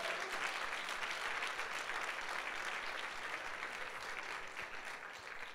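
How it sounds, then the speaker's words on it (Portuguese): Steady applause from a church congregation, dense and even, holding strong before tapering slightly toward the end, with no talking over it. "Pode dar um aplauso a Jesus."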